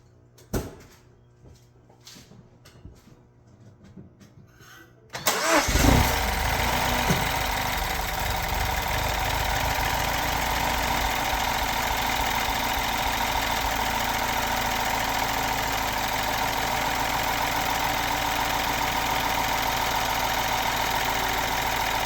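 A few quiet clicks and shuffles, then a GDI car engine, just treated with aerosol Seafoam carbon cleaner, cranks and catches with a loud burst, settling into a steady, rumbling idle.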